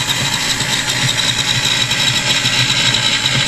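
A working F-35 fighter jet engine model from StirlingKit, powered over USB, runs with a steady, continuous whirring drone and faint mechanical hum, holding an even level throughout.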